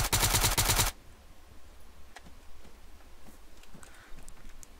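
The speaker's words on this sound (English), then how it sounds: "I'm getting shot." Automatic gunfire in the military shooter Arma 3, a loud rapid burst for about a second, followed by faint distant shots and scattered footsteps in a quiet background.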